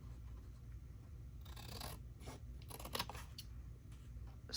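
Scissors cutting paper for a handmade junk journal tag, with a few quiet snipping and rustling strokes clustered in the second half, close but faint, no talking.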